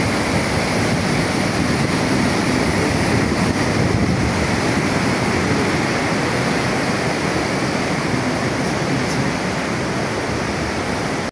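The Dudh Khola river in Nepal rushing and flowing, loud and unbroken from start to finish, with no voices.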